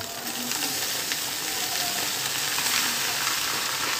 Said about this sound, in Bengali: এখন আমরা ফুল ফ্রেমে রাইসটা ভেজে নিতে হবে